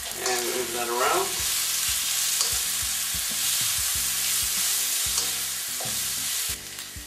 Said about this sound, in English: we put our chicken in there that we fried. And we add ½ tablespoon of tomato paste. And move that around